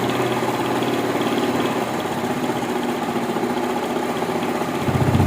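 A motorcycle engine runs steadily with its throttle raised slightly above idle, giving a close, even, buzzing drone with a faint rhythmic pulse and a small rise in pitch near the end.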